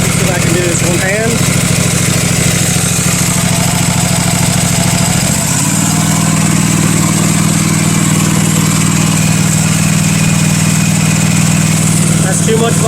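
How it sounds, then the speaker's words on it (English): A Husqvarna MZ5225 zero-turn mower engine with a voltage regulator fault runs loud and close. It idles, then revs up around the five-second mark and holds a steady higher pitch, while someone talks over it. "when I accelerate it"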